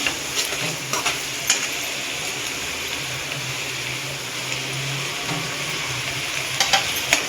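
Ginger garlic paste frying in a pan for egg masala, a constant sizzle with scattered scraping and tapping of a spoon stirring it, close and steady with no one talking.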